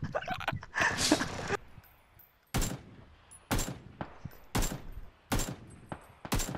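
Loud gunfire in a video game: sharp single shots at roughly one-second intervals, preceded by a burst of dense rapid fire and a short stretch of rumbling noise.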